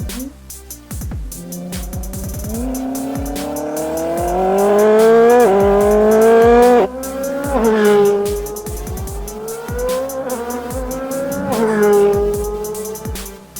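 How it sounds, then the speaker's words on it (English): A Koenigsegg Sadair's Spear slides around the Gotland Ring circuit in Sweden, its engine loudly revving and climbing in repeated surges while the tires squeal through the drift. "you just keep the car on a very nice slide"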